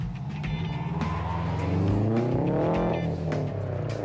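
A Japanese 350 hp gendarmerie pursuit car accelerates hard, its engine revving loud and close with rising pitch through the gears, a brief dip mid-pull before climbing again.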